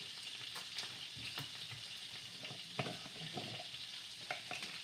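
Onion and garlic fry in a pan with a steady broadband sizzle, broken by a few sharper clinks and scrapes of stirring; close and fairly quiet, with no voices.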